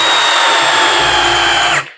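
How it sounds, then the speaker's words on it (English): A power drill drives a self-tapping screw into a wooden table leg, giving a loud, steady, high motor whine for nearly two seconds that cuts off abruptly at the end. "So you set that in here, drill down through it."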